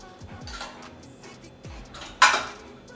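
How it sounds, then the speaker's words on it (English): Metal pot cover handled on a stove while Jamaican kidney and rice cook, light clinks and scrapes followed by one sharper clatter, close and fairly quiet. "Go and get the pot cover up"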